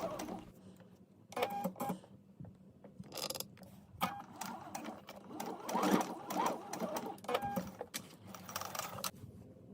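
Sewing machine stitching a dart in fabric, bursts of rapid mechanical whirring and rattling separated by brief pauses, close and clear.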